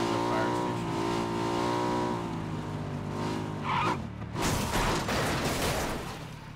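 Car engine idling with steady harmonic drone, then revving and shifting as it rolls into a fire station, ending in a loud rushing burst of movement and mechanical clatter.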